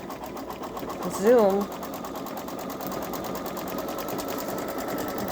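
A Babylock Solaris embroidery machine stitching, a steady rapid mechanical whir with fast needle rhythm running throughout, close and continuous, with a person talking briefly over it.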